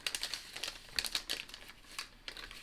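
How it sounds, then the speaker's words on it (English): Plastic and foil packaging of a home COVID test card crinkling and tearing open at close range, with a rapid series of soft crackles and rustles and a few sharper ripping bursts, fairly quiet with no talking. "Open your test card."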